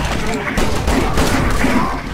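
Gunfire rattles in the video game Resident Evil 6, a dense, loud stretch of rapid overlapping shots with voices talking over it.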